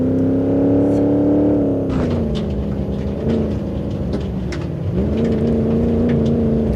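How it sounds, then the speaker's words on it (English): Oldsmobile Regency 4x4 in BeamNG.drive, engine droning and revving at a steady high pitch that dips and recovers, continuous and loud with no talk. "The engine doesn't seem to be really down on power yet, so I think the engine's okay."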